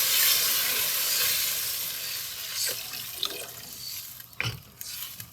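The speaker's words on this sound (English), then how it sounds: "let me put the water in there." Water pours into a cooking pot for red lentil soup, a loud rushing stream that fades, followed by a few splashes and drips near the end.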